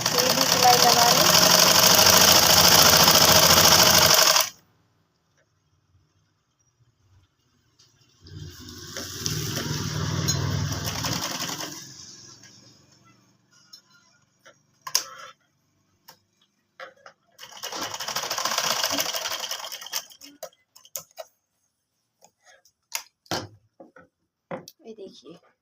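A sewing machine stitches kurti trousers in three separate runs of rapid mechanical ticking and whirring, each lasting a few seconds, with quiet pauses and scattered small clicks between them.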